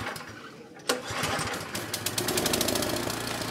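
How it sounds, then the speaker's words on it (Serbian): An engine in a video game sputters into life with a sharp thump, then builds into a steady mechanical chugging and rattling drone that powers a lift, loud and alone with no voices. "Nakon što pronađete motor, Blake ga pokrene i lift je spreman za pokret."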